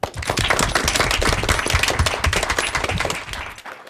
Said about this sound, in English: I wanted to hear a big round of applause for a job well done.